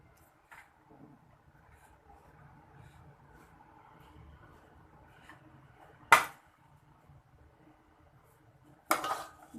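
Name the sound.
dishing out rice onto a large tray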